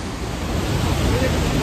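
Rushing water at the Rhine Falls, heard from a rock in the middle of the falls as a loud, dense, continuous roar filling the whole moment without a break.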